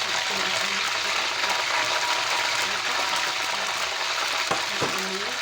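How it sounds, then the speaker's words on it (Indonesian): Fish frying in hot oil in a home kitchen, a large fish with crispy shallots, giving a steady broadband sizzle that runs throughout at close range, with a couple of brief clatters near the end. "Nanti saya lanjut goreng yang kedua ya teman-teman."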